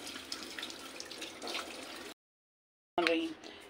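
Raw chicken being rinsed in water in a home kitchen, a steady splashing and trickling from a tap or bowl for about two seconds, then a brief silence before a closer burst of clinking and running water.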